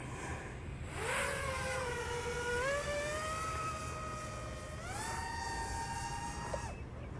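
FPV quadcopter drone motors on a first flight, a whining multi-tone whir that steps up in pitch twice as the throttle rises, moderately close over a low background rumble.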